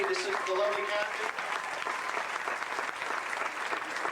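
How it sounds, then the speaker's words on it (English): Banquet-hall audience at an awards dinner applauding for Kathy, a steady dense wash of many hands clapping for about four seconds, with some voices mixed in under the clapping. "do you have another round of applause for Kathy?"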